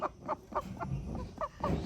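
Ducks quack in a series of short, nasal calls, spaced in quick succession and fairly close by.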